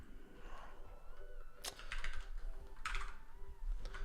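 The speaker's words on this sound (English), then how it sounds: "I'm typing so slow" Quiet clicking of fingers typing on a computer keyboard while writing code, uneven bursts of keystrokes at a slow, hesitant pace, faint and close with no talk.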